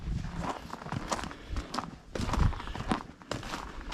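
Donkeys walking beside a back barn in cold weather, irregular hooves thudding and scuffing on the ground close by, with soft outdoor noise around them.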